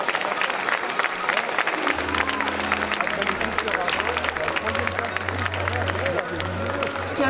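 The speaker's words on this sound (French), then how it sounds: "On peut les applaudir parce qu'ils n'ont pas démérité" An audience at the Troyes Japan Pop Show cosplay contest applauds the participants, with continuous clapping and crowd noise while a low droning tone and voices sound underneath.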